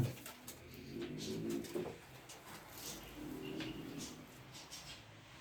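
Pigeons coo in a loft in two soft, rolling bursts of low throaty calls, fairly close, with quiet room ambience between them.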